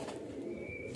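Pigeons coo softly in a brief, steady murmur, close and fairly quiet, with no voices over them.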